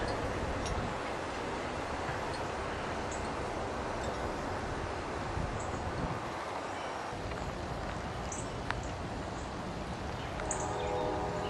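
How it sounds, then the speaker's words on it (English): A train passes at a distance along a residential street, a steady broadband rumble mixed with wind buffeting the microphone, with faint ticking clatter and a brief tonal horn near the end. "Here's the train."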